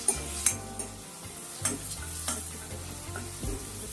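Chopped onions frying in a pan, a continuous close sizzle broken by sharp spoon scrapes and stirring knocks every second or so, without any voice.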